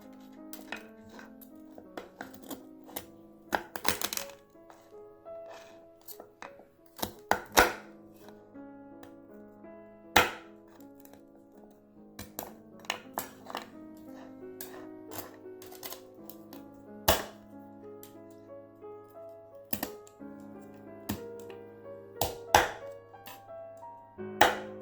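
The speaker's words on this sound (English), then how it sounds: "you're gonna turn it back, cut it into half, and scrape away all these things, and break the legs" A knife cutting a crab in half and scraping it clean, heard as sharp scattered clacks and chops on a board with short scraping passes, spaced irregularly over a quiet background.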